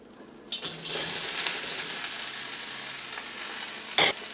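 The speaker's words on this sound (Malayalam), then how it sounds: "ഇനി സെയിം ചീനട്ടിയിലേക്ക് തന്നെ നമുക്ക് നമ്മൾ വറുത്ത് വെച്ചേക്കുന്ന ചിക്കൻ ചേർക്കാം." Fried chicken pieces tipped into a hot pan for a Kerala kozhi roast start a steady, close sizzle of frying, with a brief scrape or stir near the start and a sharper burst near the end.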